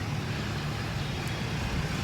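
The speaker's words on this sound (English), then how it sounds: "A little truck just crossed the bridge." A small truck crossing a bridge in Bac Lieu, Vietnam, a steady low rumble of engine and road noise that holds evenly throughout, heard alone without talk.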